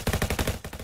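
Automatic weapon fire in the PC battle royale shooter Raiotfall: a loud, rapid, evenly spaced burst of shots lasting under a second, with no voice over it.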